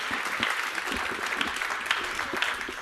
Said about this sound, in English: A warm round of applause, please, to this gentleman.